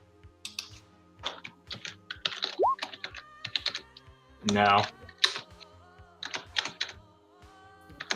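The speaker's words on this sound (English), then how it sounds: "just spent as long typing that out as it took to do stuff" Rapid clicking of keys on a computer keyboard in irregular bursts, fairly close, with a brief louder broadband rush midway and faint background tones.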